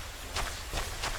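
Heavy footsteps of a Sasquatch creature in Final Fantasy XIV, three muffled thuds spaced about a third of a second apart, soft against a low background hum.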